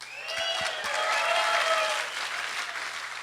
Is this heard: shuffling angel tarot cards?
no